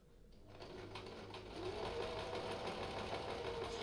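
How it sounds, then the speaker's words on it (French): A sewing machine stitches a detachable Osaka collar, its rapid mechanical whirring starting softly and then running steadily and louder as it continues, with no talk. "j'imagine que les bruits de machine à coudre en lève couture, vous vous y habituez"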